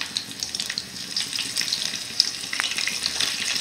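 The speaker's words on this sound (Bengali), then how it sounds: "তেলের মধ্যে দিয়ে দিচ্ছি কাঁচা লঙ্কা কুচি" Chopped green chilies hit hot oil in a pan while chowmein is being cooked, giving a close, continuous crackling sizzle with small pops.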